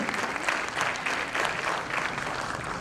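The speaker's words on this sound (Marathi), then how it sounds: "आपण जोरदार टाळ्या वाजवून त्यांचे स्वागत करूया आपल्यामध्ये।" Audience applause welcoming a guest performer onto the stage at a Marathi music event: steady, dense clapping from a crowd, sustained at even loudness from start to finish.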